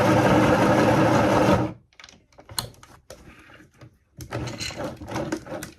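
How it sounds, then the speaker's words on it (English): A sewing machine stitches patches onto a denim vest in one loud, continuous run, followed by soft clicks and handling noises. "And now we sew them on."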